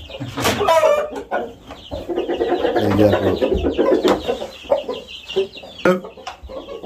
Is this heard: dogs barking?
no